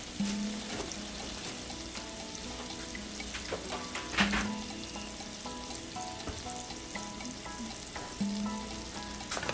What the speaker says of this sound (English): we're just sauteing our onions in some butter